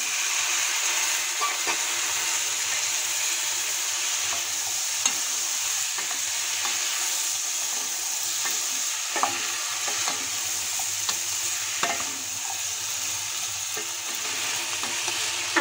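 Potatoes, spices and onion flower stalks sautéing in a pan, a continuous close sizzle and hiss with regular scraping and clicking as the mixture is stirred, no voices.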